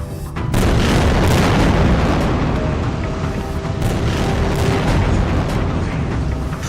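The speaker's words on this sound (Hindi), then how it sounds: "भयानक धमाके से उड़ा दिया है।" A heavy explosion in war footage bursts out after a short lead-in, followed by a sustained loud rumbling roar that slowly fades over several seconds.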